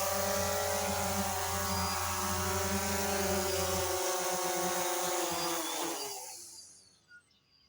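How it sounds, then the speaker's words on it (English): A DJI Phantom 2 quadcopter hovers close by with a loud, steady propeller buzz, then lands and its rotors spin down and fall silent near the end. "There you can see the drone's up. We're gonna land it."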